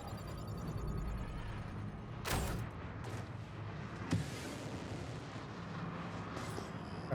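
A missile fired and exploding in the Star Citizen space combat video game, with a sharp blast, a second crack shortly after and a faint later pop over a continuous rumbling engine drone.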